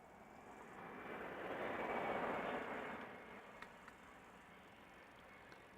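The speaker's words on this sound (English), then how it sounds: "this would be KLM Flight 1792, an Embraer 175 arriving from Munich" A KLM Embraer 175 regional jet arriving from Munich at Amsterdam Schiphol, a faint distant engine whoosh that swells gently and fades over a few seconds, ending on a sudden loud knock.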